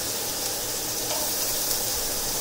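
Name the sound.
diced onion frying in hot pan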